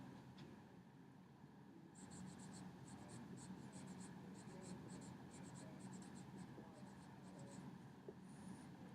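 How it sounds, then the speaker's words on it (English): Pen scratching on paper while drawing nine cookies, quiet rapid rhythmic strokes in short bursts over a faint low background hum. "I'm going to draw out 9 cookies."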